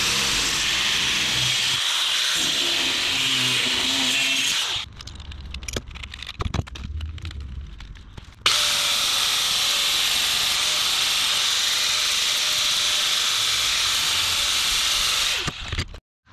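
Coupons of 1/8 inch steel flat bar cut with a loud, continuous, hissing power-tool whine. It drops out into a quieter stretch with clanks and handling noise, then resumes at full level until it stops abruptly.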